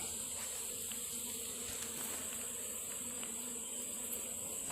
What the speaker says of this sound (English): And I do still have a box full of bees down here.